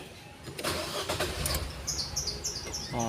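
Nissan Juke engine cranking and catching, a brief rough churn settling into idle, close and moderately loud, with a few chirps audible over it.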